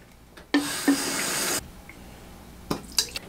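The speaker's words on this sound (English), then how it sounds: "I'm going to start off by filling my bottle with about two thirds water" Tap water rushes into a spray bottle in one steady, close one-second pour, followed by quieter clinks and handling noises.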